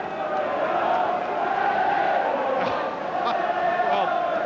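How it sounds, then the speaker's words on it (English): Football crowd in the stadium enclosure at a 1990 Rangers versus Motherwell match sings a mocking chant, a broad, continuous mass of voices at a distance, with a commentator talking over it. "the crowd under the enclosure are singing cheerio, cheerio to those who are exposed and sneaking off to get cover in the stands"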